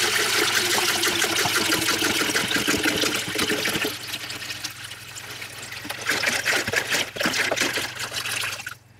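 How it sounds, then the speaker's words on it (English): Water poured into an ultrasonic cleaner tank, heard close as a continuous splashing trickle that thins and swells with a brief drop midway, then stops abruptly at the end. "And I'm gonna put that in the ultrasonic cleaner. And I'm gonna fill it up to this edge."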